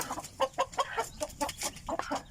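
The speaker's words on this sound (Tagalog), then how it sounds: "gulat yung isang manok kasi si Shine Shine sa loob ng uh, kulungan" Native chickens cluck in a series of short, close calls with an uneven rhythm, one bird startled inside a coop near a rural house.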